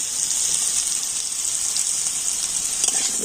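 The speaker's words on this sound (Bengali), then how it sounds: "আর এবার আমি কেটে রাখা আলুগুলো ভেজে নেব" Potatoes seasoned with turmeric and salt fry in a pan with a steady, bright hiss of oil, even and close, with a few small crackles and no talking.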